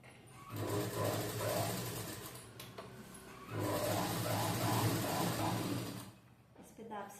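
A sewing machine stitches a band onto a blouse in two steady runs of quiet, close mechanical whirring, separated by a short pause, with someone speaking over it.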